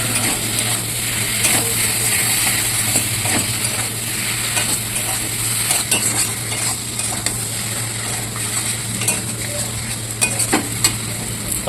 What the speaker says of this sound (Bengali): আলুগুলো দিয়ে একটু ভালো করে কষিয়ে নেব।